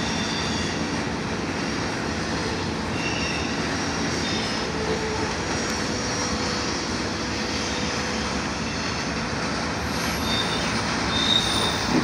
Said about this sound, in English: This is a true intermodal train.